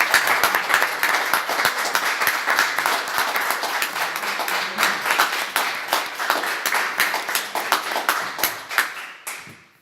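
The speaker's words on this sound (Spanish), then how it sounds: "demos un gran aplauso a María Isabel, ¿no?" An audience at a literary gathering of a Chilean writers' society gives sustained applause: dense, continuous clapping from many hands that holds for several seconds and then thins out at the end.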